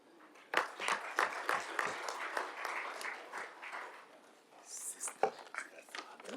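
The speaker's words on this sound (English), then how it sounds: "our moderator deserves a louder round of applause" Moderate applause from an audience at a conference plenary session on building peace, scattered clapping swelling and fading over several seconds with some murmuring voices, fairly distant and soft.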